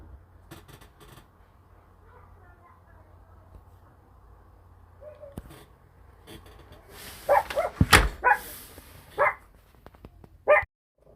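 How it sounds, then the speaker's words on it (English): A small dog gives a few sharp barks in quick bursts late in the stretch, loud and close, after a long quiet indoor spell with faint rustling and handling sounds. "The littlest one likes to bark the most."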